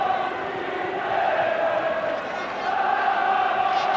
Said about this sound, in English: Alan Snoddy gives the free kick to a rousing cheer from the crowd